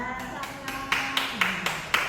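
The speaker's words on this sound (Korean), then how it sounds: "박수로 맞이해 주시기 바랍니다" A few separate claps ring out at a dance class, sharp and spaced roughly evenly in the second half, over a steady tone and a faint voice.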